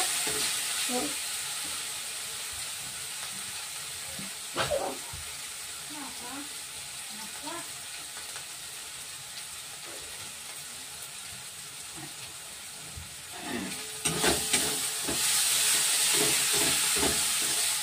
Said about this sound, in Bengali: এভাবে নাড়তে হবে।